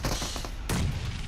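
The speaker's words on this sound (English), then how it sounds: "S2G, some blind nades coming in from their side" Grenade blasts and gunfire in PUBG Mobile during a competitive esports match, with a couple of sharp booms and a crackle of shots, the second explosion heavier and closer, with no voices.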